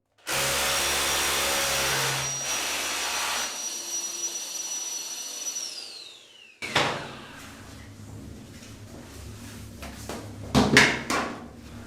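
A dust-extracting hoover whines loudly and steadily beside a hammer drill boring a hole for hanging a mirror, then cuts off with a falling pitch, followed by clunks and handling knocks.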